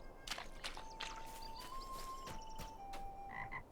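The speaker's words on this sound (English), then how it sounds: "Are we gonna get attacked by wild frogs?" Frogs croak in a video game, several sharp repeated croaks at irregular intervals over a steady faint ambient hum, with a thin sustained tone running beneath them.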